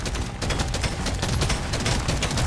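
Automatic weapon fire in Deep Rock Galactic: Survivor, a steady, rapid stream of loud shots without pause, close and dense, backed by game sounds.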